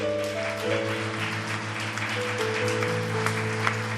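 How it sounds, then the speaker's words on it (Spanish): Church congregation applauding steadily at a worship service, a dense even patter under sustained tones from music or organ-like chords. "Denle un fuerte aplauso al Señor."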